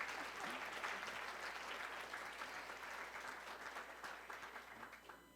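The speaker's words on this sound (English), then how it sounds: "please stand up and applaud" A conference audience at the Grand Hotel Reykjavik stands and applauds a keynote speaker, producing continuous dense clapping that fills the whole stretch, heard from a distance and fairly soft.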